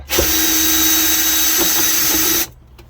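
A power drill backs out a screw in the dashboard of a 6x6 Land Rover Perentie ambulance, giving one loud, close, steady high whine for about two seconds before stopping abruptly.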